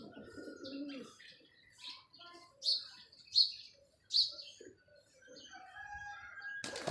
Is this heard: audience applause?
no